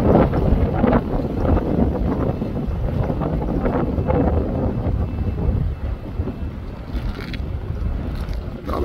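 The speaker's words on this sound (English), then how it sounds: "The wind's up." Strong wind at a boat harbor buffets the microphone in a steady, loud rumble, with gusts rising and falling throughout and no voices.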